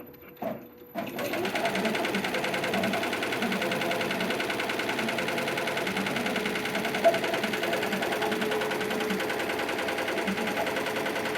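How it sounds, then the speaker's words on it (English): An automated multi-head sewing machine runs backup mending stitches over an already-sewn area, a steady close mechanical whir with fast rhythmic clatter that starts after a brief pause and holds constant throughout. "So now when I hit start, you'll see it'll start sewing over where it already did"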